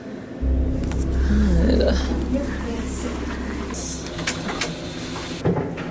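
A hotel elevator at the Queen Mary starts and runs with a low, steady rumbling hum, while people speak quietly over it and a few faint clicks and knocks come near the end.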